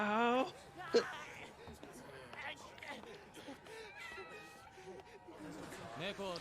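A cartoon cat in the Chainsaw Man anime gives a short, bright meow near the start, with a sharp squeal just after. It is set among anime dialogue and background music, with people talking throughout.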